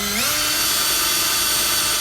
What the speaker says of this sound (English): go ahead, get all your pilot holes drilled out